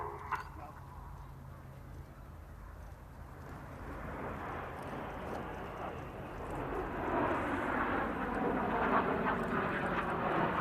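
RAF Red Arrows jets fly a shuttle roll display at an airshow, their engine roar building from a distant wash into a louder, sustained rumble as the formation passes, with an announcer talking over it.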